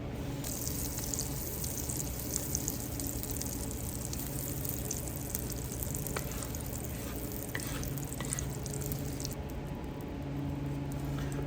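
Pieces of rabbit frying in hot butter and olive oil, a steady, close sizzle and crackle with soft spattering that runs continuously with no talking.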